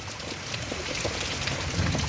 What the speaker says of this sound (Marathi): तरी आता वारं कमी झाले खूप पाऊस येतो